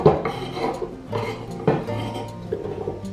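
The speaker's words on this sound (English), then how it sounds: "Now I'm going to put them into this saucepan here." Cut Charlotte potatoes tumbling into a metal saucepan, giving a few bright clattering knocks and clinks that come in separate bursts, close and moderately loud, with no talking.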